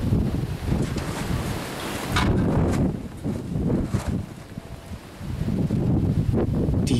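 A sustained gust of wind from an approaching thunderstorm at a scaffolded building site roars steadily for several seconds with heavy low rumble and buffeting, briefly easing and then surging again, and no voices are heard.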